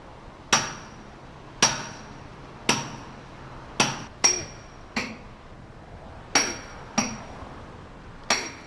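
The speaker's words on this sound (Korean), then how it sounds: "3kg의 망치를 허공에 갈라" Repeated sharp metallic strikes of a 3 kg hammer knocking out fastened pins while a tower crane is dismantled, about ten ringing clangs at irregular intervals, loud and close with short decaying rings, no talk.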